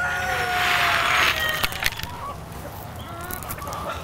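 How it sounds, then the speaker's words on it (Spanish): Turkeys at an animal sanctuary farm, a flock of males and females, calling and gobbling in a noisy outdoor yard with overlapping bird sounds. "Tenemos los pavos, los típicos pavos que se comen"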